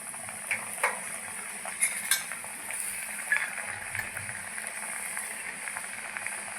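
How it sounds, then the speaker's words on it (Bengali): Khaja pastries fry in white oil in a wok, a soft steady bubbling sizzle broken by scattered light clinks and scrapes of a utensil against the pan. "আমি এখন খাজাগুলো ভেজে নেব, দিয়ে দিচ্ছি কড়াইয়ে।"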